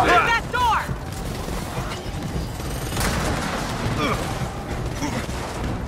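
An automated sentry turret fires in Gears of War 4 combat, with mechanical clanks and whirs at the start, then steady layered firing and impacts. Someone talks faintly over the din.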